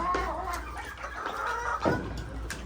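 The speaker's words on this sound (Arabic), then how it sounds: "انا اديت الفراخ اكلت اهياتي، بس كانت فعلا جعانه." Hungry chickens clucking as they eat in a home yard, several close murmuring clucks and short calls over a low steady hum.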